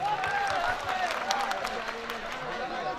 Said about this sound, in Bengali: আমার যে সমস্ত যন্ত্রশিল্পী ভাইরা বিভিন্ন যন্ত্র বাজাচ্ছেন তাদের সবার জন্য জোরে একটি হাততালি